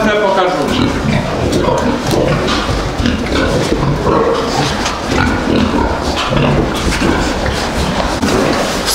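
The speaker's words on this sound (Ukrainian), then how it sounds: "ми освободили от поросяток барашку, вона зараз кричить, гуде" A sow in a farm shed shrieks and grunts loudly after her piglets are taken away, the cries near and continuous over a busy, cluttered background.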